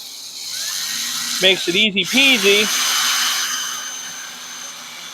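A power drill bores holes in telescope rods held in a jig, several short whining bursts close up while someone talks over a background hum.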